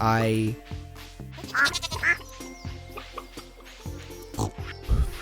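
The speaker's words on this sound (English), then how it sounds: "I cannot stop yawning" A drawn-out vocal yawn at the start, followed by someone talking and small mouth sounds, close to the microphone.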